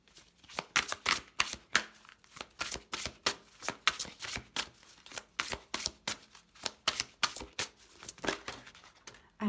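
Tarot cards are shuffled by hand, giving a close series of crisp, rhythmic riffles and slaps that repeat steadily for about nine seconds with no talk.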